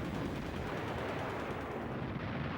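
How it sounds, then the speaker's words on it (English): Sustained, dense gunfire and blasts from urban street fighting in Berlin, with machine guns and grenades, forming a loud continuous roar of overlapping shots with no clear gaps. "General Chuikov had ordered his men to hurl grenades into every room they passed and follow up with machine gun fire"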